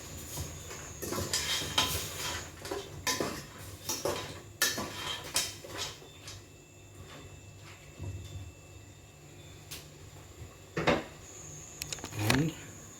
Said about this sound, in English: Give pot a stir.